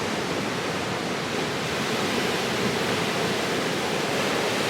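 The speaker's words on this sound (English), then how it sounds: "I'm actually at the beach right now" Ocean waves at a beach give a steady, broad wash of surf noise, continuous and moderately loud with no distinct breaks or voices.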